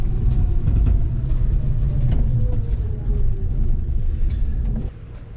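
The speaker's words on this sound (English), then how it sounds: "that was my little test drive in the EV" A Chang Li electric vehicle, damaged in shipping, with loose parts and bad alignment, rumbles over a rough test drive. Heavy low road and chassis rumble runs steadily and eases off near the end.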